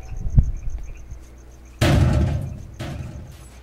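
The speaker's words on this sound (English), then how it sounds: "I hear gunshots down there" Gunfire in the STALKER: Call of Pripyat Misery mod, a few sharp bursts with rolling echo, one louder crack followed by a fainter one, heard from a distance over quiet ambience.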